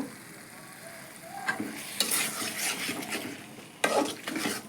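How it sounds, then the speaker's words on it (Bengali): Khichuri being sautéed and stirred in a pot, with a steady close sizzle of frying broken by scraping stirs and a few louder clanks of the spoon against the pot. "একটু ভালো করে কষিয়ে নিব।"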